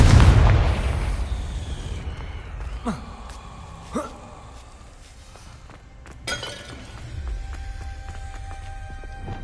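A Confringo blasting spell in a video game erupts in one loud, deep explosive burst, then fades into a rumbling tail. A few sharp crackling and shattering impacts follow over a steady low background.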